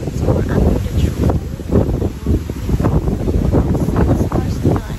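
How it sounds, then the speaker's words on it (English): Strong gusty wind buffets the microphone outdoors under a tree on a cloudy day at a bubble-tent campsite in Coonawarra, South Australia, making a continuous loud, low rumble with rising and falling surges throughout. "It's a bit cloudy and so windy"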